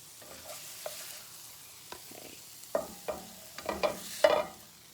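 Challah French toast caramelizing in a pan, a low steady sizzle with scattered clinks and scrapes that build toward the end, no one talking.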